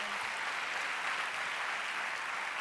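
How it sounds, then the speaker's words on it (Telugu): A church congregation clapping in unison, a dense, even wash of applause held steady throughout, heard from a little distance. "గట్టిగా చప్పట్లు కొట్టి ప్రభువును మహిమపడదాం."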